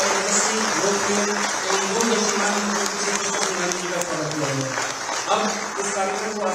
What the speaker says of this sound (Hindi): एक बार जोरदार तालियों से हमारे यशस्वी लोकप्रिय